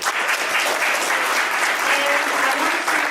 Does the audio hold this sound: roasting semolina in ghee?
no